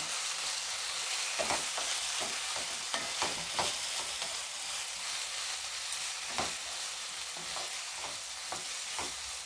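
Tomatoes frying with softened onions in a pan for chicken keema, a steady sizzle broken by repeated scraping stirs, close and moderately loud with no talking.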